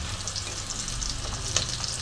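Fish head frying in oil with Malabar spinach, stirred in the pan: a constant close crackling sizzle with small sharp pops, no talking.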